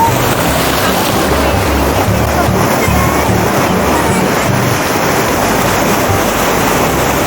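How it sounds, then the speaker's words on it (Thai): Loud, continuous roar of strong, rough sea surf churning close by on the beach at Cha-Am, Thailand, with heavy wind buffeting the microphone throughout. "คลื่นแรงมากเลย"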